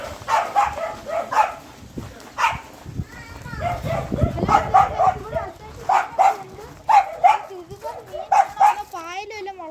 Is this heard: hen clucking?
no